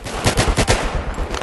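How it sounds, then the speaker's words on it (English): Rapid, loud bursts of automatic gunfire from enemy soldiers in Battlefield 3 co-op, several closely spaced shots in quick rhythm. "There are like four guys pounding bullets on me."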